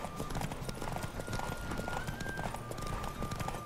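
Horse hooves pound in rapid, steady clip-clop during a horse race in The Witcher 3, with continuous galloping under game noise and a faint sustained tone, at moderate loudness without talk.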